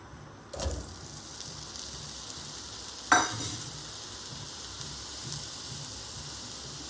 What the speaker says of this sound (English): We can directly add the yam to this.